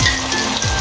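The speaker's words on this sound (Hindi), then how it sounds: "आप इसे फ्राई कर लें 5 से 10 मिनट" Sliced okra fries in a pan for a crispy bhindi recipe, giving a steady, close sizzling crackle with no talk.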